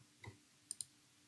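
A computer mouse clicked during a visual novel game, a soft thump followed by two quick sharp clicks close to the microphone in an otherwise quiet room.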